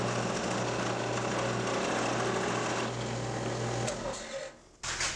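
A power drill boring holes in a clamped wood block, a loud continuous whirring grind that holds steady, then winds down with a short burst near the end.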